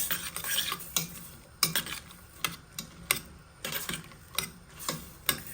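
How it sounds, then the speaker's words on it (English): Ingredients stirred as they sauté in butter for creamed mac and cheese, with a spoon scraping and clinking against the pan in a steady, repeated rhythm, close and fairly quiet over a faint sizzle. "So what I'll do is just stir everything together. Let it saute in the butter."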